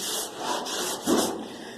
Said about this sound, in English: You can see right here where I'm sanding